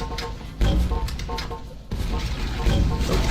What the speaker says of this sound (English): Just shoot some nades at them.